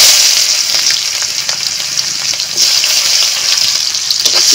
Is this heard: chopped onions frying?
yes